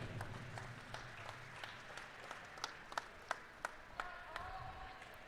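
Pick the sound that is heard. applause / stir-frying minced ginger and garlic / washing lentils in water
applause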